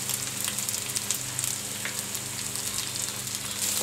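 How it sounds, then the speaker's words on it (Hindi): Garlic, ginger and spices fry in hot oil for bhindi masala, a steady close sizzle with crackling pops and scattered spits throughout, no voices. "देखिए लहसुन अदरक भून गया है, अब इसमें मसाले ऐड कर रही हूँ।"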